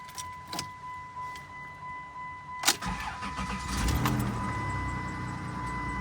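A 1996 Dodge Grand Caravan engine cranks and catches after a couple of key clicks, then settles into a rough, rumbling idle with an exhaust leak adding a raspy edge, close by and without talk.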